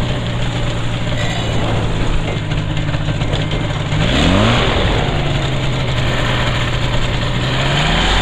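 Loud, close engine drone from a paramotor trike warming up, holding steady, then surging in a quick rev before settling back to an even hum and rising slightly again; no voices.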